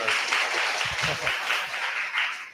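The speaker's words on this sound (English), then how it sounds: "Round of applause" Audience applause at a FOSSASIA Summit Web3 track session, a short dense burst of clapping from the room that swells and fades over a couple of seconds.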